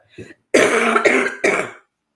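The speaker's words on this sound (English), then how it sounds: "I'm just going to clear my throat" A person clears their throat in a few rough, gravelly bursts after a brief small sound, then falls silent.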